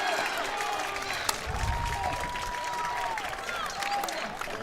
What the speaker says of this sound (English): You hear some cheering in the periphery